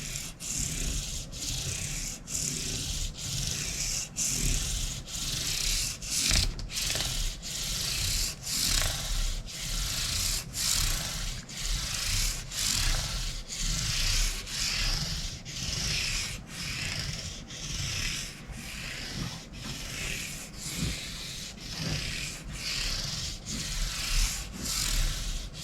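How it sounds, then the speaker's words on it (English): Fine 1200-grit sandpaper rubbing over the finish of a Schecter guitar in rapid, even back-and-forth strokes, close and continuous for the whole stretch. "So I'm going to go to a fresh section of the sandpaper and then work from this direction back over to the other side."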